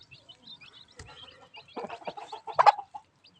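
Chickens cluck in short, irregular bursts close by, growing louder toward the end, with no talking.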